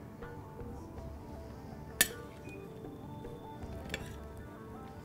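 Garbanzo beans and pistachios with fresh chopped thyme being stirred in a pan, faint scraping with two distinct clinks of utensil against the dish over a low steady background.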